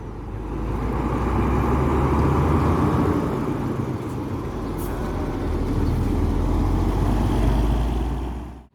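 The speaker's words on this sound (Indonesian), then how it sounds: "kembali ya bus ANS yang masuk unit ketiga kali ini masih dengan kelas royalnya" An ANS royal class bus passes close by on an Indonesian road, giving a loud, steady engine and tyre rumble for several seconds that swells and then fades.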